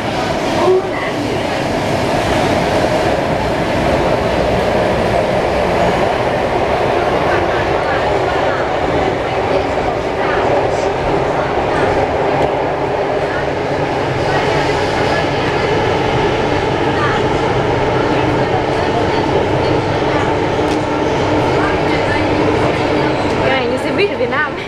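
Steady rumble of a subway train riding underground, with rolling wheel noise, faint clatter and occasional squeal throughout, loud and close from inside the car, with people talking under it.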